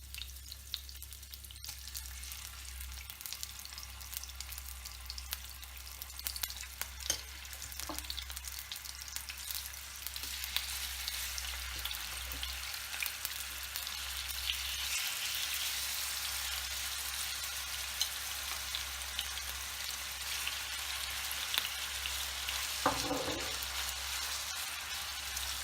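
Chicken pieces deep frying in oil on medium heat for butter chicken, a steady hiss of bubbling that builds slightly over time, quiet and continuous, with a low constant hum beneath and an occasional faint clink.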